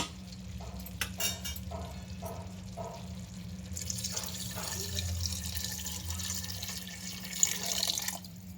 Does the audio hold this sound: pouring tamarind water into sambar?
yes